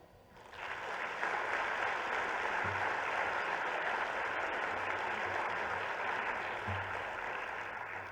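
A luncheon audience at an awards event applauds an award winner with a steady, full wash of clapping that swells quickly and holds evenly throughout, with a few faint low thumps underneath and no talk.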